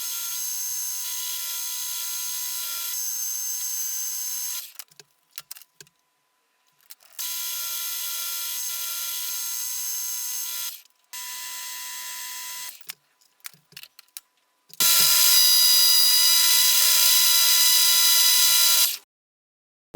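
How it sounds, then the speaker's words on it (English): A metal lathe facing the backs of pulley blanks for a milling machine's high-low gearing upgrade, heard as loud steady machining runs of several seconds each, broken by short quiet gaps and brief knocks, with the final run harsher and brighter. "we can then get them in the lathe and then clean up the back of each of them"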